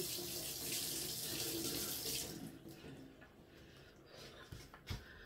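Tap water runs loudly into a sink for about two seconds while a hard-bristled brush and cleaning product are rinsed off. The flow then cuts to quieter splashes and drips with a few light knocks.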